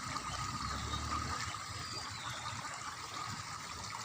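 Strong flowing water rushes steadily with a constant broadband hiss, heard from a short distance without pause.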